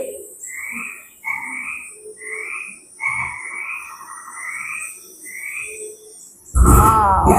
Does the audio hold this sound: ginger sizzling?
no